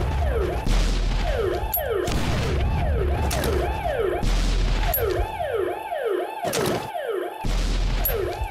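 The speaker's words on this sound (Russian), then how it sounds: "Фейерверки, елки-палки." Fireworks go off in the zombie-train video game Zompiercer: repeated loud whistling sweeps rise and fall between heavy booming bursts, closely overlapping in a rapid, chaotic barrage.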